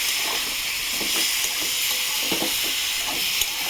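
Soybeans frying in a pan sizzle in a steady, loud hiss, with scattered stirring scrapes and one sharp clink near the end as a little water goes in.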